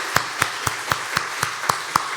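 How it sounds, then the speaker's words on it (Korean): Rhythmic unison clapping from a church youth congregation at a Sunday afternoon graduation worship service, about nine evenly spaced claps in quick succession, moderately loud in a reverberant hall. "하나님께서 변화시켜서 위대하게 쓰실 중고등부에서 박수 한번"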